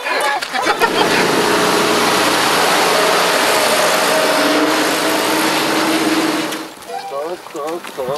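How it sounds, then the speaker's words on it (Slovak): A tractor engine runs in a meadow with a loud, steady, roaring hiss that holds for several seconds, then drops away as voices take over near the end. "Toto je traktor."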